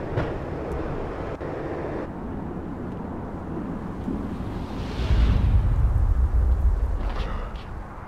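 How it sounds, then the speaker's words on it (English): A train rumbles along and gradually slows in the video game Max Payne, a steady rolling rail noise that swells into a heavier low roar partway through before easing, with no speech. "When the train he was riding slowed down, Gognitti made his move."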